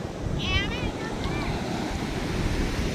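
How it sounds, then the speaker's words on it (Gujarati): Sea waves crash and wash onto the shore in a continuous close surge, with heavy wind buffeting the microphone throughout. "આવે મોજા જો એકદમ લેર્યું નાખે દરિયો"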